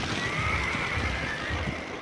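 Wild horses on open rangeland neigh and whinny in a drawn-out call, moderately loud over a steady, noisy outdoor background with low rumbling.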